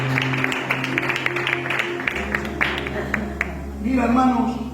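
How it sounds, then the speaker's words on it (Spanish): A church congregation claps together in scattered, uneven applause that runs under a voice speaking throughout, fading as he carries on. "Le damos un aplauso a la palabra del Señor."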